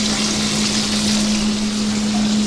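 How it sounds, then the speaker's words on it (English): Paneer frying for chilli paneer, a loud, dense, continuous sizzle with a steady hum underneath and no talking. "because we fry first this paneer"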